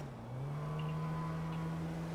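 A car in a Polish-language driving game accelerates, its engine note rising steadily and then holding a loud, sustained drone throughout, with no talking over it.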